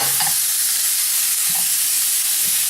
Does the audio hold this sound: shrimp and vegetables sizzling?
yes